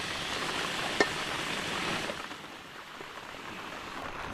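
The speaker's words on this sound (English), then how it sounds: "Now high time for us to add the rice." Rice for veg pulao goes into a pot of frying onions, cooked outdoors in the rain in Meghalaya, giving a steady hissing sizzle with a sharp clink early on before the sound settles lower.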